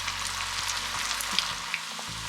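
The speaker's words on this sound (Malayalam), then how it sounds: "അപ്പം നമ്മൾ ഫ്രൈ ചെയ്യാൻ വേണ്ടിയിട്ട് ഓയിലൊക്കെ നന്നായിട്ട് ചൂടാക്കിയിട്ടുണ്ട്" Potato and powdered flattened rice snack frying in hot oil gives a steady, close sizzle with a continuous bright crackle and a few louder pops, and no voices.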